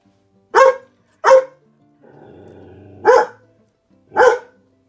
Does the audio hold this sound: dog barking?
yes